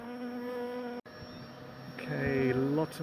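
Robbing honey bees swarm around a chimney beehive, their steady close buzzing rising and falling in pitch as individual insects pass near, with a brief interruption partway through.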